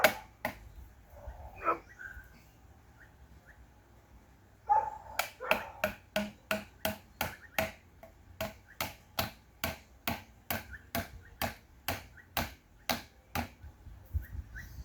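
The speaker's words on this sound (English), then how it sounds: "So basically to hammer it into the ground." A steady series of sharp knocks, about two per second, from hammering PVC sticks into the ground, preceded by a few scattered softer thuds.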